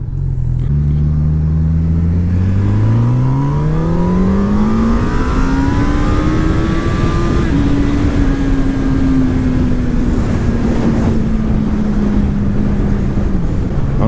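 A 2018 Honda CB1000R motorcycle pulls hard in sixth gear on a highway, its engine note climbing steadily in pitch, then holding a loud, sustained drone close to the microphone amid constant wind rush.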